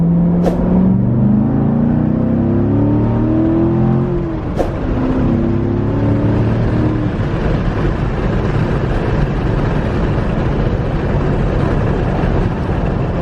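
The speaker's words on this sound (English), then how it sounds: "So this is the exhaust open, completely stock header, stock X pipe." A Corvette engine with active exhaust valves open, stock header and stock X pipe, revs hard, pitch rising then falling, followed by a loud rumbling idle that continues steadily.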